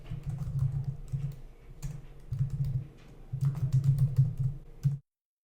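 Free text typed on a computer keyboard in a software form, bursts of quick close key clicks separated by brief pauses, steady and fairly loud with no talking.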